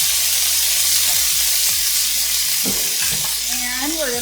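Broccoli sizzles and spits loudly in a pan with browned sausage, a steady dense hiss under occasional stirring scrapes, close and continuous with no talk.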